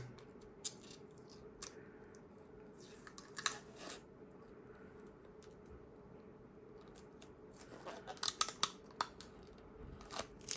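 Protective film peeled off a Qanba Obsidian 2 arcade stick, with faint crackly ticks and brief bursts of tearing plastic that grow busier toward the end, close and quiet.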